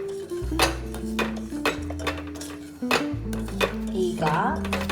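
A spoon stirs asafoetida into an amla pickle mixture in a metal vessel, giving repeated clinks and scrapes against the pot, while a voice talks over much of it.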